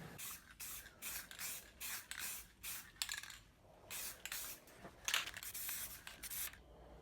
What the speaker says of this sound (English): For the main barrel, I used a metallic aluminum spray